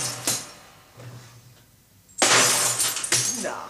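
A glass bottle shatters with a sudden loud crash and a spray of tinkling shards that scatter for over a second, preceded by quieter knocks and faint background sound.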